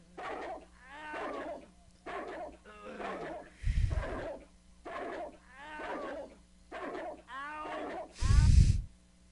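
Dogs in the video game Redneck Rampage bark repeatedly in short, evenly spaced bursts with whimpering yelps, punctuated by two heavy low thuds, loud and close.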